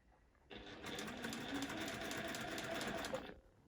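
Juki sewing machine stitching a face mask close to the fabric edge in a workshop, running as one steady, loud, continuous mechanical whir for about three seconds, with no talking.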